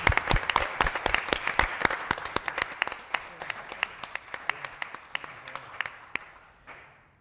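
Applause for election candidates at a town council meeting: a modest room of hands clapping in a dense, uneven patter that thins out and fades over several seconds.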